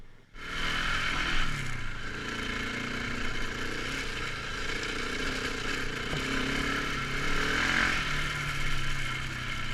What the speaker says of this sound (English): with a little clutch abuse, he got the Africa Twin rolling again